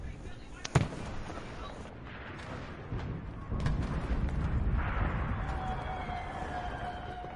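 Anti-aircraft gun firing in Enlisted, a sharp boom up front followed by distant rumbling flak blasts and explosions across a battlefield, with a player talking over it.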